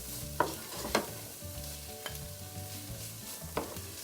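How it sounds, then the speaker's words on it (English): Two medium red onions, chopped small, fry in a pan over a medium flame, giving a steady soft sizzle with a few sharper scrapes and knocks as they are stirred, close by and without talk. "Now we are going to cook the onions here until they are a little soft and a little brown in color."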